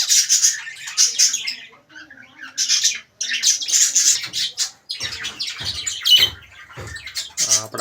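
A pet finch in a cage at a small mini zoo gives repeated sharp, squawking calls and chirps in close, uneven bursts, heard loud and near, with brief pauses between the bursts.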